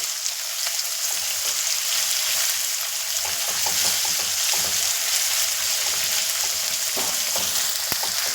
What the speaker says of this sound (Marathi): एक मोठ्या साईजचा कांदा आहे हा. आपण छानपैकी परतून घ्यायचा आहे, म्हणजे शेंगदाणेही छानपैकी परतले जातात.